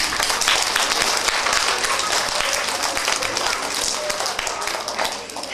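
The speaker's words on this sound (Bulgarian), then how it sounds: "Пляскаме!" A group of schoolchildren applauds together at a school open day, dense, loud, continuous clapping close by that fades a little toward the end, with some voices mixed in.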